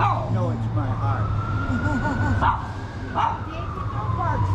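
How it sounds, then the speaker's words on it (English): A dog yips and barks a few times on a Downtown Eastside street in Vancouver while a police siren wails steadily in the background and people talk nearby. "don't bark so much."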